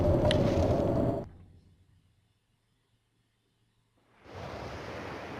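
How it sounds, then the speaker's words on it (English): Howling blizzard wind outside a shelter in the survival game The Long Dark, a loud broadband roar that drops to near silence for a few seconds, then returns at full strength. "Sounds like a blizzard out there."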